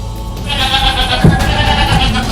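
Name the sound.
goat bleating in a cage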